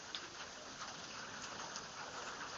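Steady rain falls outdoors as a dense, even hiss, fairly quiet and continuous with no voices.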